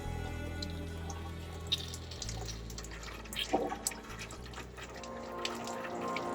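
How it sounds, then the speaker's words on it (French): Hot water runs from a tap into a sink inside a camper van fitted with a drinking-water circuit, a steady close rush with a few drips and splashes, no talking. "On va tester l'eau chaude."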